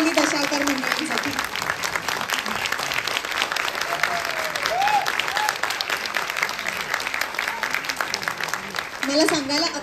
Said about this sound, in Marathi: एकदा जोरदार टाळ्या श्री देवी माऊली दशावतार मंडळींसाठी